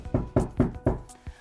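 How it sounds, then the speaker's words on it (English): Five firm knocks land on a front door in an even rhythm, the last one softer. Each knock is close and alone, a sharp thud with a little ring after it. "suddenly there was a knock at the door"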